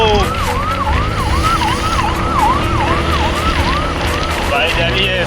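Wailing ambulance siren sweeping up and down in a steady repeated cycle, loud and close, moving through dense, foggy Delhi traffic with engine rumble and horns underneath.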